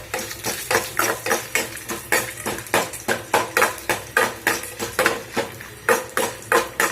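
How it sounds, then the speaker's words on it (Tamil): A spoon scrapes steadily around a pan of dried red chillies, cumin and chana dal roasting for tomato sambar. The even, rhythmic strokes come about twice a second over a faint sizzle, close and clear. "ஜீரகம் எல்லாத்தையும் போட்டு நல்லா வறுத்துக்கலாம்"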